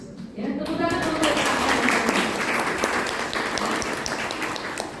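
A guest lecture audience breaks into applause, a thick, steady wash of clapping that builds within the first half second and continues evenly, with a voice heard briefly at the start.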